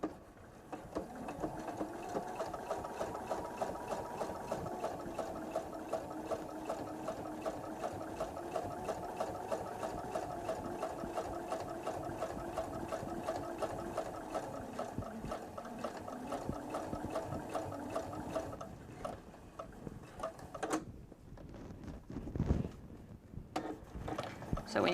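Sewing machine running a quarter-inch quilt seam, a steady close whirring hum with rapid needle clatter that continues for about twenty seconds before slowing and stopping, with speech underneath.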